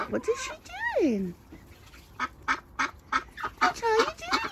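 Ducks in a polytunnel flock house give a sweeping honk-like call, then a run of short nasal quacks and squawks, close by and fairly loud, with a voice mixed in.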